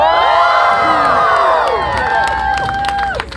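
A lively crowd at a German festival street performance in Tomball cheers and whoops loudly, with children's shouts rising above a dense roar and a few claps mixed in.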